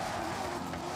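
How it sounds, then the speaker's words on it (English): Car in Forza Horizon drifting, engine roaring steadily with a sustained squeal of sliding tires, loud and close for about a second, no talking. "Guess we can try to drift it too."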